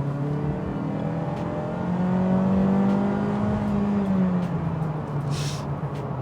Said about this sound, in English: the engine noise under heavy loads took me by surprise. It's unnecessarily loud.